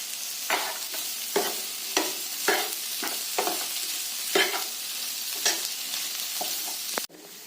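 A spoon repeatedly scrapes and stirs a sizzling cheese and corn mixture in a pan, about a dozen distinct stirring strokes over a steady frying hiss, close and clear, ending with a sharp clatter.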